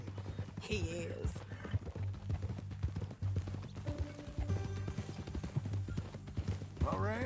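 Steady clip-clop of horse hooves plodding along at a walking pace in the video game Red Dead Redemption 2, with a brief snort near the end and some quiet background sounds.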